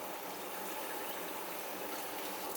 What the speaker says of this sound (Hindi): अब मैं इसमें पानी डालूँगी बिस्मिल्लाह करके